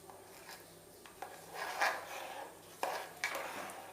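A spoon mashes lumps of cooked papaya while stirring payasam in a pot, making soft scraping and rubbing strokes with a few sharper knocks against the pot, close and quiet.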